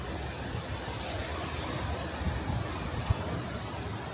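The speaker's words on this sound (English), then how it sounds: "And the noise of the waves crashing is wonderful, isn't it?" Ocean surf rolls steadily onto the shore at Playa Paraiso on Tenerife, a continuous broadband wash with no distinct breaks, moderately loud and with no voices.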